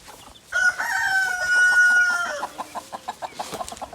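Chickens in an orchard, with a rooster giving a loud, near crow that rises and holds, then breaks into a run of short rhythmic clucks from the hens at the end.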